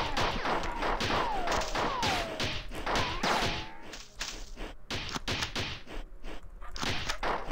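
Enemy bombardment gunfire in the Marathon shooter game: a dense, loud barrage of rapid blasts, thuds and crashes that keeps going across the whole stretch, with a brief lull partway through.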